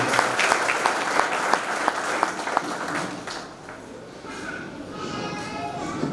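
Steady applause from a seated audience at a village welcome ceremony for a soldier, loud and sustained for several seconds before fading under a voice and children's chatter.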